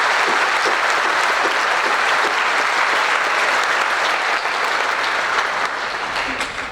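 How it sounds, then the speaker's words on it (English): Loud, sustained applause from a large graduation crowd at a technical school commencement, honoring the school's staff; thick, continuous clapping holds steady throughout and tapers only slightly at the very end. "So let's give them a round of applause."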